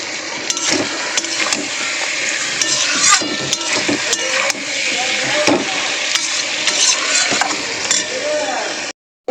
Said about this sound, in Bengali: শিমটা টমেটোটা ভালো করে মজে গেছে, মশলার সাথে আমি কষিয়ে নিয়েছি।